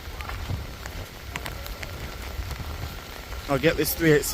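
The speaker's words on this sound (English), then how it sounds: "it's starting to really chuck it down" Heavy rain patters on surfaces at a railway station in Hitchin as a continuous hiss, with a voice speaking briefly near the end.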